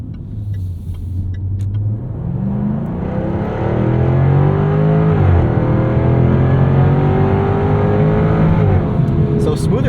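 A 2023 Jaguar F-Type R engine pulls hard and climbs in pitch, briefly dropping as the automatic gearbox shifts, then rising again; steady loud engine noise throughout.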